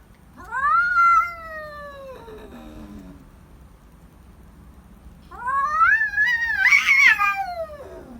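A cat trying to eat leftover wet food gives two long, loud, drawn-out meows separated by a quiet pause, with no talking.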